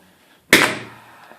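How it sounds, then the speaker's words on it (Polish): One sharp, loud hammer blow on the plastic water pump from a coffee machine, a single hard crack that rings briefly and fades. "I próbujemy sobie młotem potraktować, nie?"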